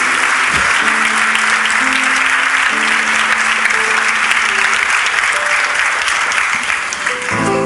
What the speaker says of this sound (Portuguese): Esses aplausos estão bons aí para o pessoal das Olimpíadas